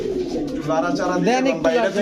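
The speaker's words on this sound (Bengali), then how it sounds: "ইন্ডিয়ান কালদম এই পেয়ারটা একদম ক্রিম চোখের কবুতর" A pair of cream-eyed Indian Kaldom pigeons coo softly and repeatedly at close range at a market stall, under someone talking.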